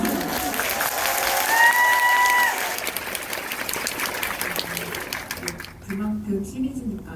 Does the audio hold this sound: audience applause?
yes